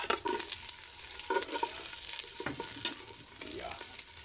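Onion, ginger and lemongrass sauté in a pan with a steady bright sizzle, broken by clattering stirs and scrapes of a utensil against the pan at close range.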